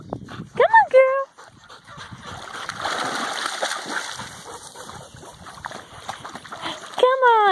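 A dog splashing in water outdoors, a loose continuous splatter and churning through the middle, with whining yips at the start and end and a person talking over it.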